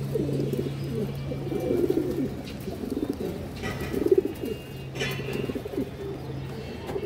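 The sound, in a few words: pigeons cooing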